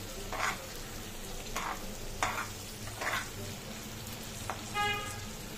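A spoon scrapes and stirs a curry with chopped tomato frying in a pan, with soft repeated scraping strokes over a low steady sizzle and a brief clink near the end.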